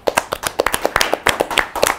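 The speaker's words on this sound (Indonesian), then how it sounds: "Tepuk tangan dulu dong" Hand clapping in a podcast studio, a quick run of sharp, fairly close claps in a loose rhythm, with no talk over them.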